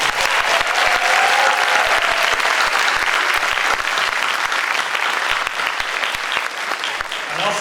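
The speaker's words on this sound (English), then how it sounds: "All right, big round of applause." Sustained applause from a large crowd at a probation department general assembly, a dense, even roar of many hands clapping that holds steady throughout, with faint voices underneath.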